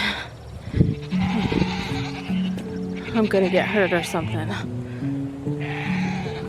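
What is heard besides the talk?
goats bleating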